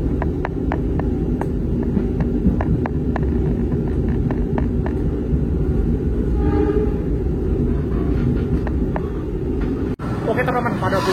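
Steady low rumble of the Brantas passenger train running on rails, heard from inside the carriage near Kediri station, with rhythmic clicks of wheels over rail joints throughout.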